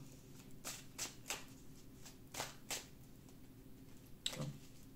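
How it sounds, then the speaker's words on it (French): Tarot cards shuffled and drawn from a deck, a quiet series of short papery flicks and slides at an uneven pace, close up with no talking. "je vais tirer une carte supplémentaire"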